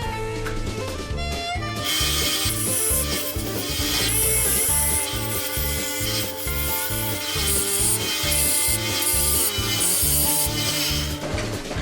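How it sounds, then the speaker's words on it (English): A Milwaukee power tool cleaning around the bolt hole of a mower blade, a loud rhythmic rasping and grinding that repeats in steady pulses throughout. "I'm going to get the other side of this blade and I'm going to clean up around the bolt hole."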